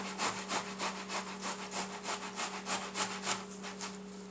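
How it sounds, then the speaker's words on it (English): Tomato and garlic are grated against a hand grater for paella in quick, even strokes, about fifteen close passes in a steady rhythm over a faint constant hum. No one speaks. "You want to grate the tomato and grate your garlic down."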